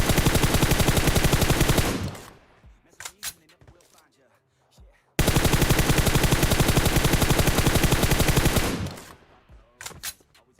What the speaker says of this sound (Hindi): यहाँ पे मैं पत्थर के टॉप पे चढ़ जाता हूँ और चलाता हूँ M4